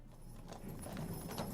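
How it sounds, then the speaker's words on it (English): Galloping horses approach in a quick clip-clop of hooves, rising slightly in loudness over a brief stretch, fairly faint with no talk. "The sound of galloping horses grows louder and louder behind me."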